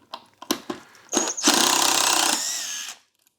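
A DeWalt 20V lithium-ion cordless drill backs out screws, whirring in short bursts, then running steadily for a couple of seconds before winding down, close by with no talking.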